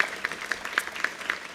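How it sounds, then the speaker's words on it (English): An audience at the Rome Business School 2021 graduation ceremony applauds the team, a short burst of fairly faint, evenly paced clapping with no voices over it. "let me ask you for another generous round of applause for the team"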